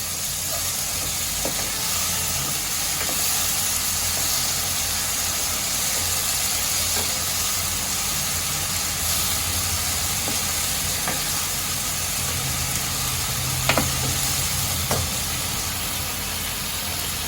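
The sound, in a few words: adding tomato puree to a pan and stirring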